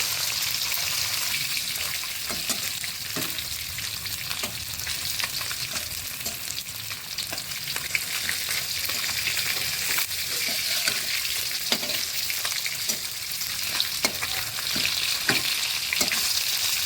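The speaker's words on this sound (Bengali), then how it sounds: "মাছটা লাল লাল করে ভেজে নিয়েছি দেখো তো মাছটা লাল লাল ভাজা হয়েছে কিনা" Koi fish sizzling in hot oil crackles continuously up close, with frequent light taps and stirring scrapes scattered through it.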